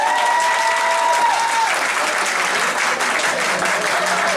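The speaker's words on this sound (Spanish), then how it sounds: "Vamos, solo aplausos entonces para Agustina Germanosa." A crowd applauds steadily and loudly, a dense even clapping that continues without pause for several seconds.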